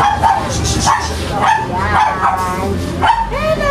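A Pomeranian at a small pet market in Quezon City barks and yips in quick, high, close bursts roughly every half second, with faint talk and market bustle behind.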